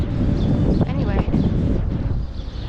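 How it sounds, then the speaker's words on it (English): Strong outdoor wind buffets the microphone with a constant low roar before sunrise on Arch Street in Philadelphia, while someone talks over it. "a lot of wind here."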